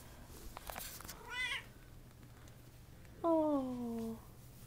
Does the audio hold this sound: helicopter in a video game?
no